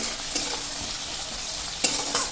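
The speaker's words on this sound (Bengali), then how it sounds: "পেঁয়াজ টমেটো একসাথে ভেজে যাবে, টমেটোর কাঁচা গন্ধটা চলে যাবে।" Onion and tomato fry together in hot oil as they are stirred, making a steady close sizzle with a few brief scraping strokes.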